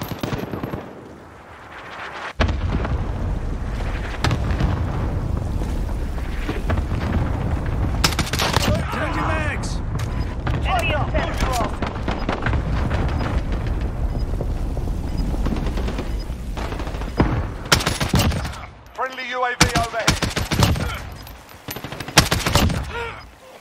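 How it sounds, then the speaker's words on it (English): Cluster strike explosions and rapid gunfire in a Modern Warfare hardcore team deathmatch: dense, continuous bursts and booms that roll on loudly for most of the stretch, with brief lulls and a few sharp cracks near the end. "Allied cluster strike inbound."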